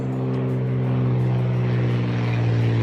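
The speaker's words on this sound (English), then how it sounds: "That was an ag cat. There'll be another plane following it." An Ag Cat crop-dusting biplane passes overhead spraying insecticide, its propeller engine giving a loud, steady, droning hum throughout.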